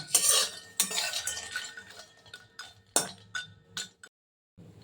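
Whole dry spices such as bay leaves, dried red chilies and green and black cardamom get stirred in a metal pan, with uneven scraping and clinking strokes that stop briefly near the end.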